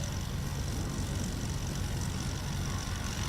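A STOL airplane takes off at the Music City STOL 2025 competition in Gallatin, Tennessee, its propeller engine a steady, loud drone with broad wind-like rumble, heard alone throughout.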